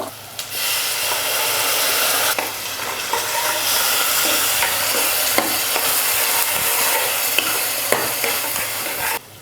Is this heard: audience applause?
no